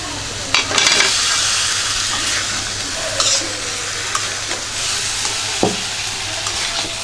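Fish head frying with chili, cumin, turmeric and coriander spices in a pan, a loud continuous sizzle broken by scraping stirs and occasional clinks of a spatula against the pan.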